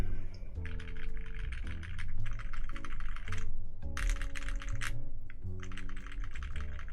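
Steady typing on a plateless Glacier 80 TKL keyboard with Epsilon switches, a dense, continuous patter of soft muted keystrokes in bursts, close and moderately loud over a low hum, with no talk.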